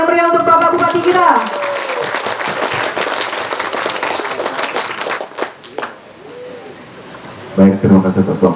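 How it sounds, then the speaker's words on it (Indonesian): Audience applause for the district regent at a government rice-planting acceleration ceremony in Central Lampung, a dense clapping wash that fades and then flares again briefly near the end, with bird-like coos and a voice over the top. "Beri tepuk tangan yang meriah untuk Bapak Bupati kita."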